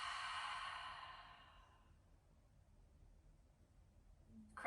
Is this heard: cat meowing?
no